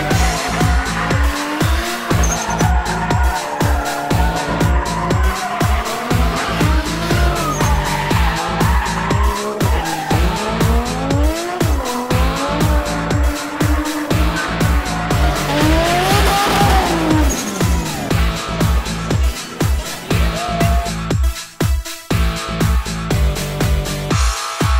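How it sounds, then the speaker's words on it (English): Drift cars at a US Drift Circuit event, with loud, continuous engine roar and long tire squeals and skids close by, revs rising and falling repeatedly throughout. "what's being done here with drifting"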